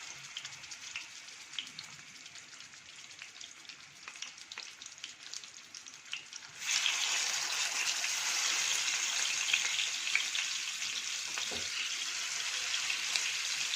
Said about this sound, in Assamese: এয়া তেল গৰম হৈছে, মই মাছ বহাই দিছোঁ।